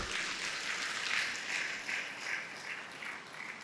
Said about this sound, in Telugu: గట్టిగా చప్పట్లు కొడదాం గురువులందరికీ